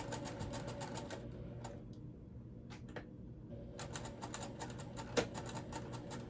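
A sewing machine stitches along the seam of a purple water bottle bag, running in steady rapid bursts with a short pause in the middle, close and moderately loud with no talking.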